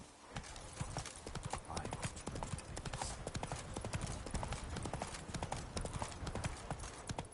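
The horse Roach runs in The Witcher 3, its hooves pounding in a fast, steady, even gallop rhythm that carries through the whole stretch at a fairly quiet level, with speech faint or absent.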